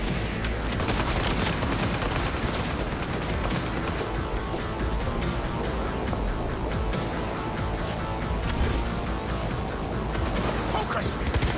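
Constant gunfire in Cyberpunk 2077 on Very Hard, a dense rapid rattle of shots with heavier sniper cracks scattered through it, loud and unbroken for the whole stretch.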